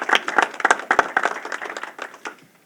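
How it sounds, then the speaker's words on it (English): An audience at Governor Cuomo's remarks at JFK airport claps in a sparse, uneven burst of individual hand claps that thins out and fades over a couple of seconds. "Let's give them a round of applause"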